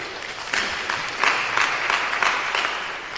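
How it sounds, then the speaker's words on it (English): Audience clapping at an NAACP Day gathering at a state capitol, a short burst of applause from a moderate crowd with uneven swells of hand claps, fairly close and continuous with no voices over it. "They clapping."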